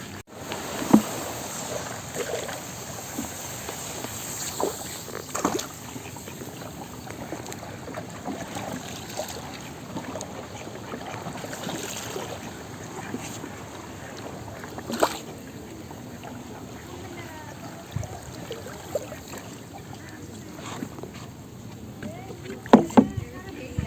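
A small boat is rowed across water, with sloshing, splashing paddle strokes and occasional knocks against the hull, plus faint voices in the background.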